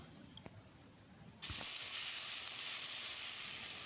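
Tomatoes with turmeric and coriander powder sizzle loudly in a hot pan for a potato curry, a steady close frying hiss that jumps up after a brief quieter moment, with a few scraping stirs.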